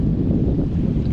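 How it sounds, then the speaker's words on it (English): Steady wind noise buffets a sailboat lying at anchor mid-ocean, a dense low rushing roar with no distinct lulls across the short stretch. "except for the gusts, it's not terribly windy in here"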